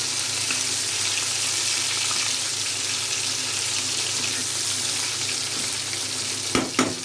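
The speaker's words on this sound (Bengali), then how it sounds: "এখানে আমার মাছ ভাজাটা প্রায় কমপ্লিট হয়ে গেছে।" Rohu fish fries in a pan with a broad, steady hiss of hot oil, then two quick knocks near the end.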